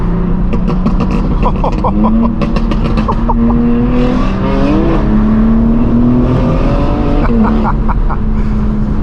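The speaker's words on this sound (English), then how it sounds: "Oh my God, that G82 sounds wild." A BMW M4 G82 with a 6-speed manual revs hard and accelerates, its pitch climbing and shifting through gears, loud and close, with faint voices underneath.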